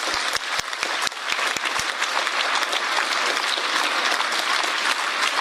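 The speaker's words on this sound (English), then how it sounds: "standing ovation" A large audience gives a standing ovation, dense sustained applause filling the space, opening with a few sharp loud claps before settling into a steady roar of hands that holds at high level throughout.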